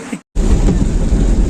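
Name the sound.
heavy rain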